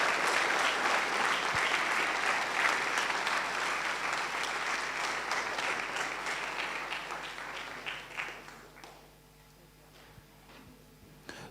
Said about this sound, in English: just a big clap for every one of us for finally making it this far